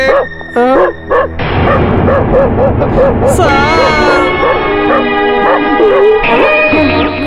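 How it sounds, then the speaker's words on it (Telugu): A police dog barks and yelps repeatedly at close range while tracking a scent to the site of a theft at a collector's house, the loud barks recurring in bursts throughout amid dramatic movie scoring. "అందుకే పోలీస్ డాగ్ వాసన చూసి ఇక్కడికి వచ్చింది"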